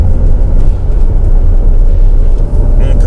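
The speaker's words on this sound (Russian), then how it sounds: "Вот мы сейчас газ жмем" A Skoda Superb with an automatic gearbox accelerates under throttle, its engine a loud, steady low rumble heard from inside the cabin throughout.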